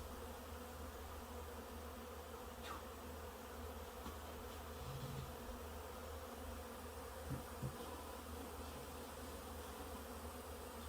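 A steady, dense buzz of a honey bee swarm in a garage hums throughout, with a few brief louder passes close by.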